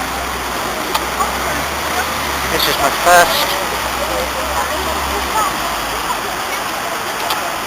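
Heavy rain pours in central Rome beside a grand monument to Italy's first king, a steady loud hiss of water with splashing, passing traffic and someone talking close over it.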